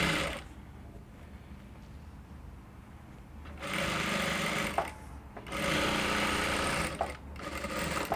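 A sewing machine top-stitching a blouse runs in short bursts of steady whirring, pausing between stitch runs, close and moderately loud with no talking.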